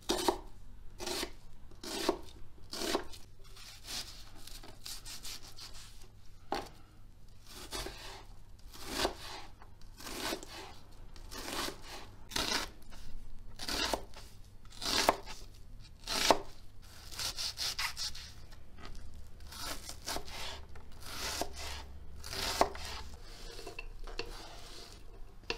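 A knife chops a dry onion on a board in quick, steady strokes, a long run of crisp repeated thuds with brief pauses, close and clear with no talking.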